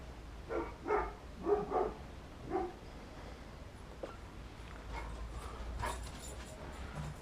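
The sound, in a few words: dog barking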